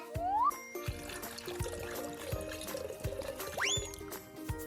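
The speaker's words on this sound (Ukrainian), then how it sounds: "Зараз ми додамо воду у цемент і він не затвердне." Cartoon water pours into cement in a children's workshop scene, a bubbly trickling fill under bright rising musical whistles and a steady rhythmic beat.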